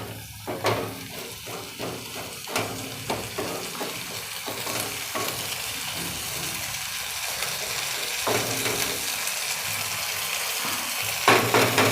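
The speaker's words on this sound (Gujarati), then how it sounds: "આવી રીતે ફેરવતું રહેવાનું તેલમાં તેલમાં" Fenugreek leaves and fresh green pigeon peas are turned over in hot oil for a Gujarati shaak, making a rapid series of scraping spoon strokes over a steady, close sizzle, with no one talking.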